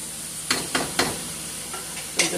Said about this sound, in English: I love cooking in my stir fryer